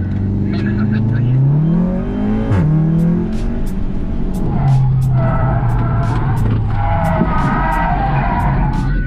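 Car skidding out of control at full steering lock during a driving training seminar: engine revs rise and fall while tyres squeal loudly, with people talking over the noise in the cabin.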